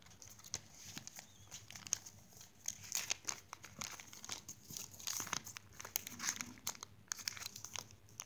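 Origami paper for a five-pointed ninja star is creased and folded by hand, making soft, close crinkling and rustling at a low level with no talk.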